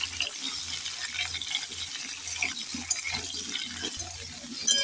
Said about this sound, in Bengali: এবার নেড়ে চেড়ে লাউটাকে 2 মিনিট ভেজে নেব।